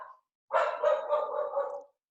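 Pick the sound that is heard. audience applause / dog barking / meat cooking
dog barking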